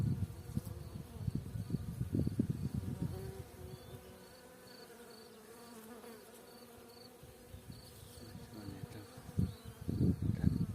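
Bees buzz close by on poppies in a soft, wavering drone, busier at the start and end and quieter in the middle.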